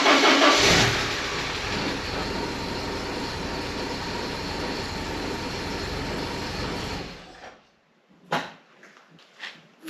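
A Porsche engine starts and runs at a steady idle, loud and close for several seconds before cutting off, followed by a few faint knocks and clicks in near silence.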